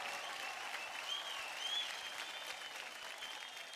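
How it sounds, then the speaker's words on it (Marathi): A studio audience on a Marathi television dance competition applauds in a sustained, even burst of clapping. It sounds moderately distant, with a faint whistle or cheer rising above it. "एकदा जोरदार टाळ्या होऊन जाऊ दे या तिघांसाठी."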